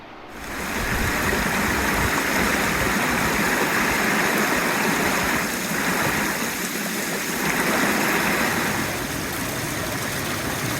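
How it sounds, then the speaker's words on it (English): Steady, continuous rush of falling water, a dense broadband roar that stays loud and even throughout, like standing near a waterfall. "Could listen to the sound of those waterfalls all day."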